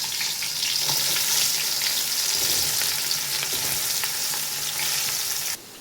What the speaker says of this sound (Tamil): கட் பண்ணி வச்சுருக்க பெரிய வெங்காயம் ஒரு 400 கிராம் அளவுக்கு எண்ணெயில் சேர்த்துக்கலாம்.